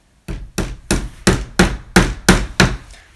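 A hammer drives a small wire nail into a wooden Langstroth beehive frame with eight sharp, evenly spaced taps, close and loud, with no talking.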